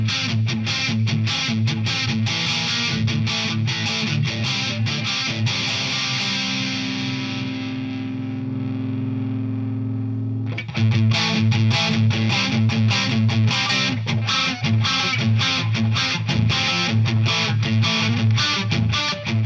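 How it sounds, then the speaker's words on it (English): Chugging, palm-muted electric guitar riffs played through a Behringer OD300 overdrive/distortion pedal, loud and crunchy, with a sustained ringing chord in the middle before the rhythmic chugging resumes. "you can turn it more towards distortion and it will make your guitar less muddy"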